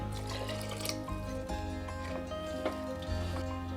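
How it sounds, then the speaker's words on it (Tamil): Half a cup of water pours steadily into a pot of coconut milk green pea pulao with soft splashing and trickling, quiet and close, no talking. "இது கூடவே அரை கப் அளவுக்கு தண்ணி"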